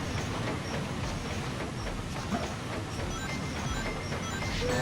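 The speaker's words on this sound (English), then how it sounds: "You check out this spooky ghost train." A spooky ghost train in the Sonic Adventure 2 video game rumbles along steadily with dense rattling and clattering throughout, loud and continuous with no break.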